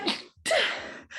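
A single close, loud sneeze bursts out after a brief intake of breath, followed by a short trailing sound.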